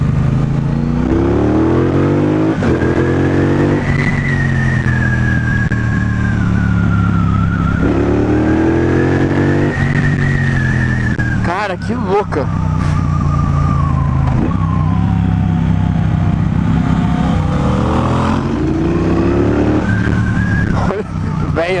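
A Triumph Bonneville Bobber twin-cylinder motorcycle with two exhausts revs loudly and continuously, its engine note rising and falling through repeated accelerations and gear changes while someone speaks briefly over it.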